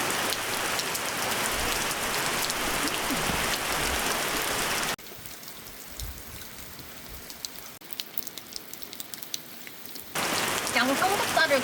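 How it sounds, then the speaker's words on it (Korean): Heavy rain pours down at a valley campsite beside a treehouse, a dense steady hiss that drops to a quieter patter midway before returning at full strength near the end. "엄청 많이 온다 비"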